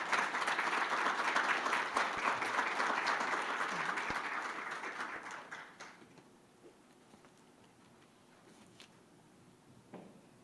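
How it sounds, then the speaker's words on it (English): Audience applause at an induction ceremony, loud sustained clapping from a crowd that tapers off after about six seconds into quieter scattered claps and room noise. "Let's give our two speakers another round of applause."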